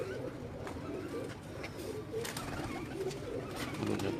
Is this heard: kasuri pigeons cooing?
yes